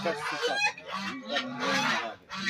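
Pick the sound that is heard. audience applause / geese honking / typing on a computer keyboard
geese honking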